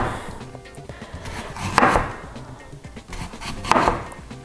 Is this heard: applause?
no